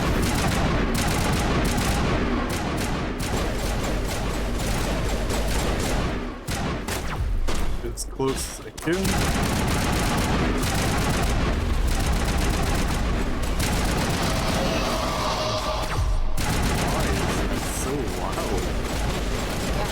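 Rapid, dense gunfire from the video game Mass Effect Legendary Edition rattles almost continuously in loud bursts and volleys, pausing briefly midway, with a voice talking briefly over the battle.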